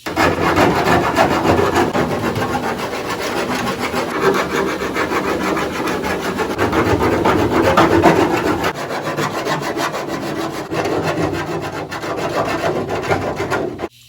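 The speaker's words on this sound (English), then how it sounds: "I'm just gonna go through and file these edges real quick" A hand file rasps back and forth along the cut edges of a hole in a 1968/69 Ford Fairlane hood, loud and close, in continuous scraping strokes with no talk.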